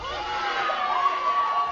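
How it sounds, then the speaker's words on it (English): Queens supporters cheering at a women's rugby national championship match against Laval, a sustained muffled crowd roar with scattered whoops and shouts. "Queens crowd here, trying to supporters trying to get behind their team."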